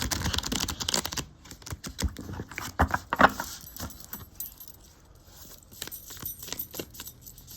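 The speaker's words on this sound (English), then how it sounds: "I'm going to shuffle these again, actually. It's difficult with this deck because it's, it's so big." A large Medieval Feathers Tarot deck is shuffled in uneven bursts of crisp, clattering clicks and riffles, close by, with short pauses between handfuls.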